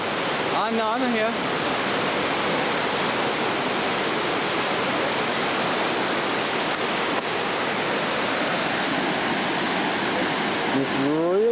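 A roaring river rushes through a canyon, a loud, continuous wall of churning water noise that never lets up, with no voices over it.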